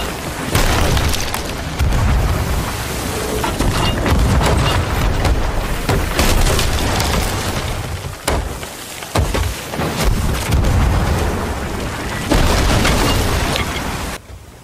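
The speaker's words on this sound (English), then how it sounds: "Just keep shooting the cannon" Heavy video game cannon booms fire again and again in a dense, loud barrage, with short gaps between volleys and no voices.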